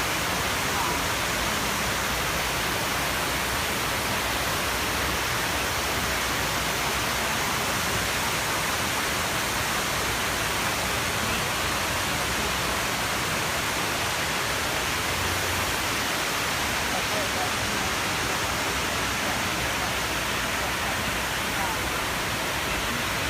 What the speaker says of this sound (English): yeah, it's actually like a waterfall.